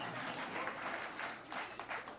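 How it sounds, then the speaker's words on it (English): A soundboard applause effect plays as a continuous wash of clapping, fairly faint and steady throughout, with no voices over it. "Did we just get applause?"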